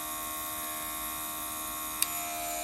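A small AliExpress airbrush compressor runs with a steady, quiet, even hum and one brief click near the end.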